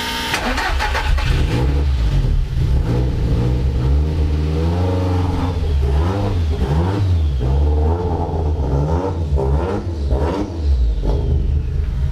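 A car on a test drive after wheel bearing work, its mid-pitched engine running loud and steady, rising and falling as it accelerates through the gears, with no talking.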